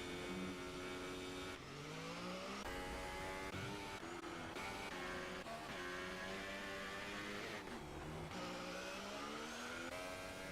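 Formula 1 cars race side by side at the German Grand Prix in F1 2018, their high-pitched engines screaming loudly and steadily, rising in pitch and dropping sharply at each gear change as they accelerate together.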